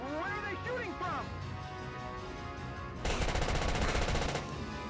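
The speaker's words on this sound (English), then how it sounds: "Where are they shooting from?" Bursts of machine-gun fire in the video game Valkyria Chronicles Remastered, a dense rattling volley filling the final couple of seconds after game sounds, under a man's speech.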